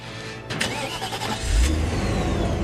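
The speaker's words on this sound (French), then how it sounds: "Laisse tourner le moteur." A car engine cranks briefly with the starter, catches and fires, then settles into a loud, steady running rumble close by, with no talk over it.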